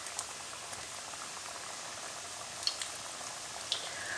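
Samosas frying in hot ghee give a continuous, fairly quiet bubbling sizzle, with a couple of faint isolated pops and no voices.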